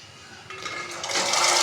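Water is poured into a cooking pot for chickpeas, a close rushing pour that swells and grows louder over under two seconds, with no talking.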